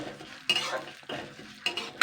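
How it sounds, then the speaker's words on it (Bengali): Mung dal frying lightly in refined oil in a wok, with three bursts of spatula scraping and stirring over a quieter background, close and fairly loud. "তো এবার আমি মুগের ডালটা সর্বপ্রথম ভেজে নেবো হালকা করে"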